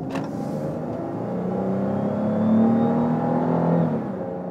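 A Dodge Charger V6 rated at 292 horsepower pulls hard toward 60 mph, its engine droning steadily and rising in pitch through a gear, heard from inside the car with no talk.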